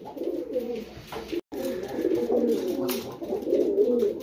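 Pigeons or doves coo in an outdoor enclosure, a continuous, close chorus of low rolling coos with only a brief break partway through.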